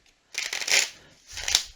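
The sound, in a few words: shuffling tarot cards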